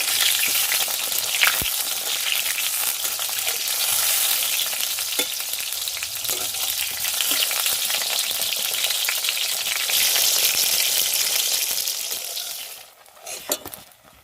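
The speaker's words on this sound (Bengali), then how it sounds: "দেখো বেগুনগুলো লাল লাল করে ভাজা হয়ে গেছে, 4 পিস বেগুন।" Pieces of tender young brinjal fry loudly in oil in a pan, a bright continuous sizzle with occasional stirring clinks, fading and breaking into a few scrapes near the end.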